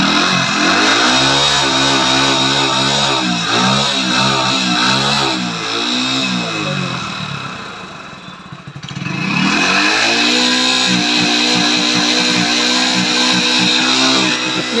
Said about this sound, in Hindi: तो यहाँ से हम RPM खींचेंगे।